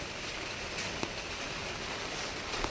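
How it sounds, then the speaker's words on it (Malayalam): Heavy rain falling steadily as a dense, even hiss, close and continuous, with a few faint knocks. "നോക്കി നല്ല മഴയുണ്ട്"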